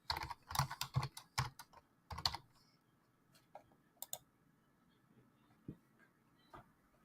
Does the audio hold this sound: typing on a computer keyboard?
yes